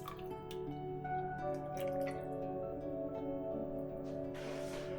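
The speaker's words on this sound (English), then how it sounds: "Just put a little bit more broth on top." Broth is poured over a bowl of wild mushroom and smoked tofu rice noodle soup topped with spring onion and Thai basil, giving a close, steady liquid trickle and splashing, with a brighter splash near the end and no talking.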